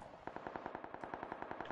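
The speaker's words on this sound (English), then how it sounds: "That's a lot of gunfire over 65." Rapid automatic gunfire from a multiplayer shooter video game rattles in fast, steady bursts throughout, loud and continuous with no talking.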